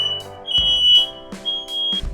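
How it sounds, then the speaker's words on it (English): Smoke alarm sounding in a room during a paludarium build, giving loud, high piercing beeps in repeated bursts with short gaps, up close and with no talking over it. "Hold on, I've got a fire alarm going off."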